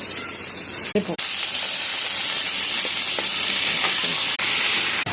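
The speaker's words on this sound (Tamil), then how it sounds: "எல்லாத்தையும் எண்ணெய் ஊற்றி வதக்கலாம்." Urad dal, ginger and garlic frying in oil in a kadai for hotel-style kara chutney, giving a steady broadband sizzle with a few brief stirring knocks throughout.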